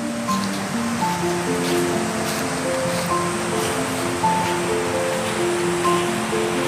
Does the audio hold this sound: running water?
yes